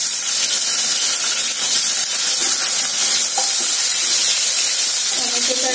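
Chopped tomatoes hit hot oil tempered with green chillies for a Bengali fish curry, giving a loud, continuous hissing sizzle that fills the whole stretch without letting up.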